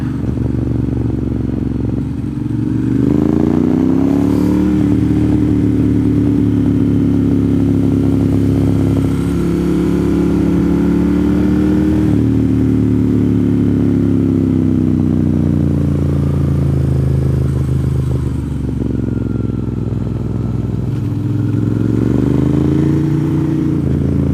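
Several motorcycles roll past on a Florida road, their engines droning loudly and steadily with rising and falling pitch as they accelerate, close by and continuous for the whole stretch.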